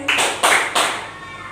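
Audience clapping along in a counting clap game: three sharp bursts of group claps in quick succession, then fading, loud and close.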